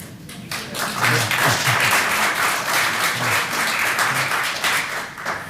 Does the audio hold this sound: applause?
yes